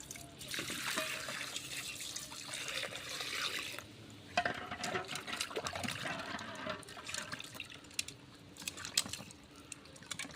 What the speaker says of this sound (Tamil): இப்போ இதெல்லாமே நம்ம தண்ணி ஊற்றி நல்லா வாஷ் பண்ணிக்கலாம்